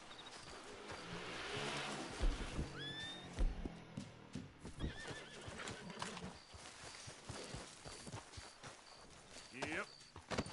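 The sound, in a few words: horse riding in the video game Red Dead Redemption 2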